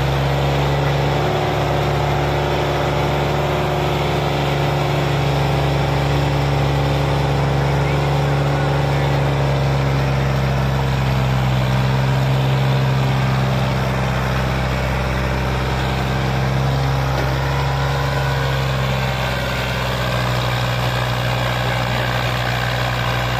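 A loaded tractor's diesel engine runs steadily with a deep, continuous throbbing rumble, idling and pulling without pause, while people talk intermittently over it.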